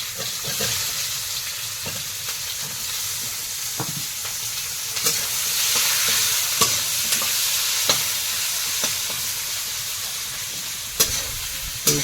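Chopped onions fry in ghee in a pan, oil hissing and crackling continuously, with occasional sharp clinks of a spoon stirring.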